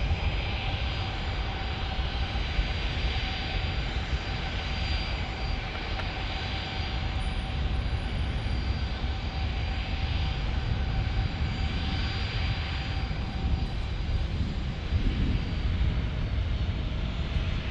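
An ATR turboprop airplane at San Diego airport, giving a steady, broad engine roar that holds loud and constant throughout, with no voices.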